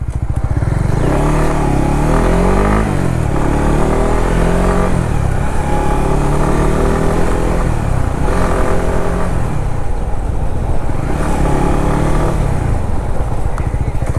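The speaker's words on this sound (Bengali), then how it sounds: "এক্সস্টের যে নোট, এই সাউন্ডটা কানে আসলে শুধু থ্রটল করতে ইচ্ছা হয়" A 2021 Honda CBR 150R with dual-channel ABS, ridden on hilly roads, gives a loud, steady exhaust note, its engine pitch rising and falling with repeated throttle blips throughout.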